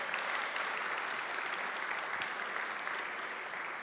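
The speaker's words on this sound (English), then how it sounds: "let's give them a round of applause for making this possible" Steady applause from a crowd at a summit, dense and continuous clapping at an even level throughout, with no voices standing out.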